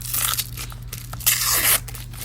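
Packaged washi tape being unwrapped: close crinkly tearing and crackling of plastic wrap in quick bursts, with one louder sustained rip near the middle, no voices.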